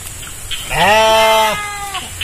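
Goats bleat while being herded outdoors, one long, loud, wavering bleat standing out clearly, with fainter bleats briefly before and after.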